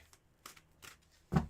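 Tarot cards shuffle in a few soft, quick riffles, ending with a louder close snap of the deck, with no talking.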